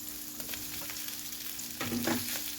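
Wide rice noodles stir-fried with egg in a hot pan for pad see ew with tofu, a steady close sizzle with a louder burst of frying and scraping as the noodles go in, no talking.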